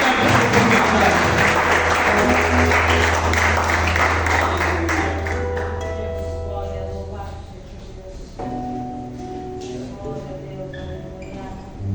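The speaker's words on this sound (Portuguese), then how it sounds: "Aplauda o Senhor Jesus Cristo" A church congregation applauding loudly and steadily, with the dense clapping gradually thinning and fading as voices and music come through underneath.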